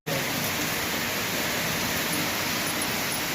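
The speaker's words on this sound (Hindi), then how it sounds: "कल की तरह आई है बारिश, जैसे कल आई थी ना सुबह ही सुबह" Morning rain falls steadily, a dense, even hiss of rainfall that starts abruptly and holds at constant loudness throughout.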